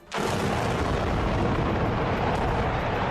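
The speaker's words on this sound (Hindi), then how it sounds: "जैसे ही इशारा हुआ, इमारत में धमाके होने शुरू हो गए।" A sustained, roaring blast rumbles continuously for about three seconds, loud and broadband, from heavy explosive charges demolishing power station chimneys, heard from a distance.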